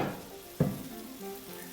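Semolina pudding with cardamom powder sizzles quietly in a pan as it is given a final stir, with one soft scrape or clink of the spoon partway through.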